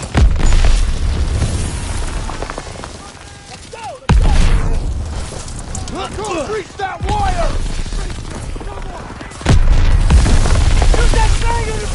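Artillery explosions in the Call of Duty WWII video game: loud booming blasts land at several points, with shouted voices and battle noise throughout.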